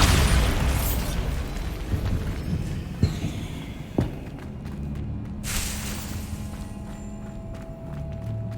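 Bombarda spell explosions in Hogwarts Legacy, a sharp blast at about three seconds and a second thump a second later, set against a steady rumbling game ambience with no talking.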